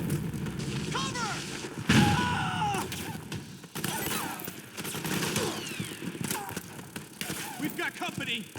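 Bursts of rifle and machine-gun fire crackle through a Metal Gear Solid 4 battle in Cove Valley, mixed with shouting soldiers and a sharp blast near the two-second mark, the volley continuing in uneven clusters.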